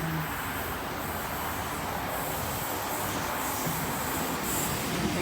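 A train passes at Mount Ku-ring-gai station with a steady, broad rumble of wheels on rails, a faint squeal running through it. The noise holds at constant loudness, moderately close, with no voices.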